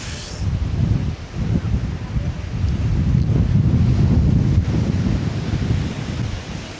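Strong wind buffets the microphone on the shore of Loch Ness, a loud continuous rumbling roar with gusty surges throughout and no speech.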